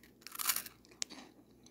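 Crunchy Pokémon chocolate corn treats being chewed close to the mic, a quiet burst of crisp crunching followed by a single sharp bite-crack and softer chewing, with no talking.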